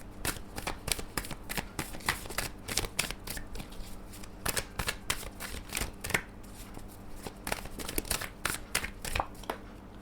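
A deck of tarot cards is shuffled over and over, with crisp riffling and flapping bursts in an uneven rhythm, close and clear with no talking.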